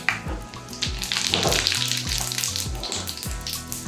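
Hot oil sizzles and crackles steadily with cumin seeds, dried red chillies and asafoetida, while small tapping and clinking sounds of stirring repeat underneath.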